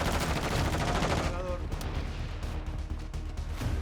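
Rapid automatic gunfire in a Call of Duty match, dense bursts of shots crackling loudly at first, then thinning into scattered shots and pops through the rest.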